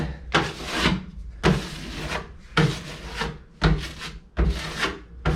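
A putty knife scrapes filler across a crack in a plaster wall in five firm, evenly spaced rasping strokes, each a rough gritty drag followed by a brief pause, close and clear with no talking.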